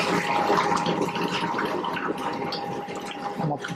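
Water pours and splashes steadily onto flour in a container, about 3 litres onto 8 kg of maida for parotta dough, a continuous rushing wash that softens slightly toward the end, with a faint hum underneath.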